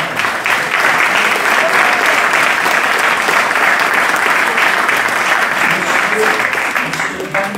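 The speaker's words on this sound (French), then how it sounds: "On peut l'applaudir." Steady, dense applause from a crowd at a ceremony, continuous clapping at an even level that tapers slightly near the end.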